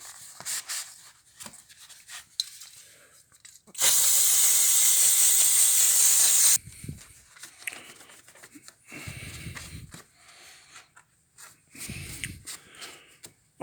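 A steam cleaner blasts a loud, continuous hiss for about three seconds while cleaning the brakes of a BMW R 1250 RT motorcycle, surrounded by quieter rubbing and handling noises.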